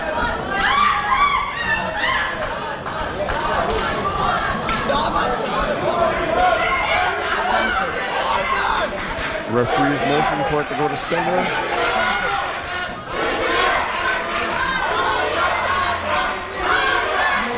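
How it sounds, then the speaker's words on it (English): Loud crowd shouting and cheering fills a junior left-arm armwrestling final at the EuroArm 2025 championships, steady and dense throughout with voices talking over it. "You can hear the crowd behind me."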